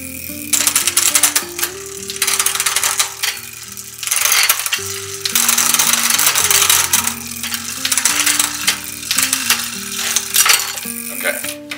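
Working on the chain and cable of a vintage Trek road bike gives close, repeated metallic ratcheting and clicking in bursts, with rattling drivetrain noise running through the whole stretch.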